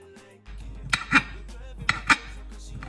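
A knife cuts sausages on a board for a tortilla pizza, giving a few sharp knocks and scrapes in two pairs against a steady low hum, with no talking.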